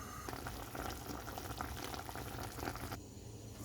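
Chicken barbecue-style pieces simmer in water in a pan, a steady close bubbling and hissing boil running throughout, briefly dipping near the end with no talking.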